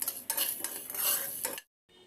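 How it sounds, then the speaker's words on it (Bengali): Peppercorns, panch phoron, cumin, fennel and two dried chillies are dry-roasted in a pan for an amla and olive pickle, giving a brief, close scraping and rattling of a spoon stirring the spices before a short pause. "এবার হালকা করে ভেজে নিচ্ছি।"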